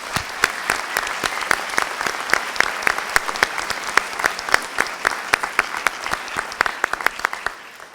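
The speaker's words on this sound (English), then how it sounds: "So could you please give all your support system a big round of applause?" Graduation audience at a University of Louisville commencement applauds loudly and steadily, a dense crowd of clapping hands sustained for the whole stretch without pause.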